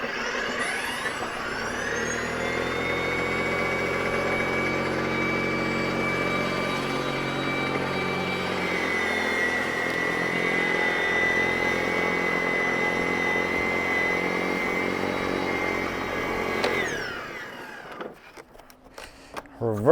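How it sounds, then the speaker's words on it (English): Ego 28-inch battery-electric two-stage snow blower with joystick-controlled chute, auger raised to throw snow far; a steady, loud motor whine with a strong harmonic hum holds for about seventeen seconds, then cuts off abruptly with light crunching after. "we're gonna get that auger nice and high just to get that snow nice and far away"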